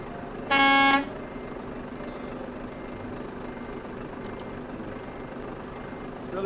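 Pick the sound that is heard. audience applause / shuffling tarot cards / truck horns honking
truck horns honking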